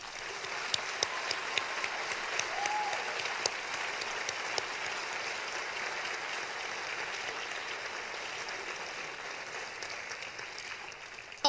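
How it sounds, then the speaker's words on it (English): A high school senior award ceremony audience gives a sustained round of applause, dense steady clapping filling the hall at even loudness from start to finish, with no voices over it. "Let us give these brave young men and women a proud and huge round of applause."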